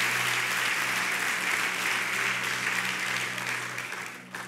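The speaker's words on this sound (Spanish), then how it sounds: "Un fuerte aplauso para ellos también." Church congregation applauding the home groups at a special service, a steady sustained wash of clapping that fades out near the end, with no talk over it.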